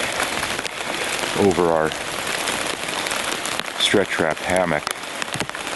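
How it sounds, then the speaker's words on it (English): Heavy rain, near freezing with some snow, drums steadily on a tarp over a campsite hammock in strong wind, a dense constant hiss throughout while a person talks over it. "And so this rain, heavy rain, 1 degree above, some snow."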